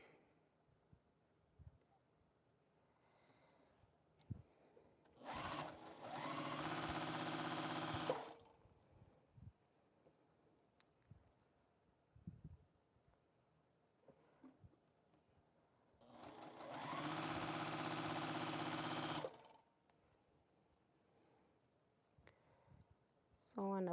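Quilt pieces go through a sewing machine in two loud bursts of steady motor whirring, with quiet stretches of soft handling and faint noise between them.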